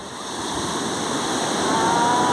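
Steady roar of surf, waves washing in continuously and loudly, swelling slightly toward the end.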